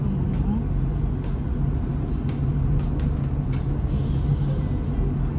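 A car pulls out to the right during a driving lesson, with a steady engine and road rumble inside the cabin and occasional light clicks beneath people talking.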